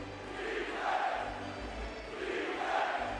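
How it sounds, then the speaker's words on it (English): A Knicks home crowd at an NBA playoff game against the Detroit Pistons roars in a sustained, swelling cheer, loud and distant-sounding with two surges of noise and no clear voice above it. "And the Knicks crowd is up."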